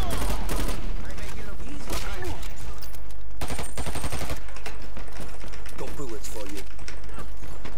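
Rapid bursts of automatic gunfire from the online shooter Dirty Bomb, loud and sharp, repeated in quick strings with short gaps, while players talk over the shots.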